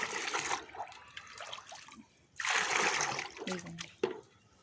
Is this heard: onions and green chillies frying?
no